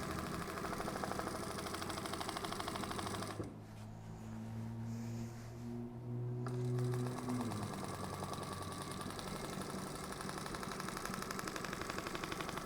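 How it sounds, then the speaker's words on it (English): Sewing machine doing free motion quilting on a table runner panel: a continuous close, buzzy stitching drone that pauses briefly mid-clip while a low motor hum continues, then resumes steadily. "you could jump straight into this free motion quilting"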